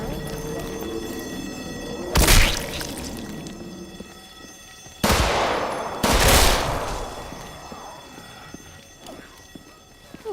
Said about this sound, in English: Someone break the glass and I will throw the grenade. Frag time, zombies.